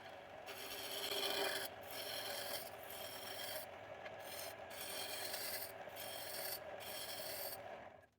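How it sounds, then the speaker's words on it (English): A wood gouge rasps steadily while roughing down a wooden scoop, a close, continuous scraping texture broken by brief pauses between strokes. "So I rough it down using the gouge until I get it to a diameter that I desire."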